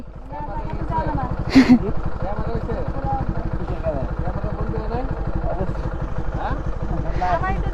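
A motorcycle ridden standing up for stunt practice on a broken open road: a steady rumbling engine drone runs close throughout, with people talking over it.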